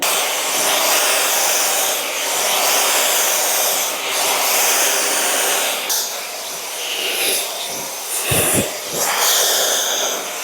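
A hair dryer blows steadily on hair with a loud, continuous airy whoosh, shifting slightly in pitch as it moves, with a few brief rustles near the end.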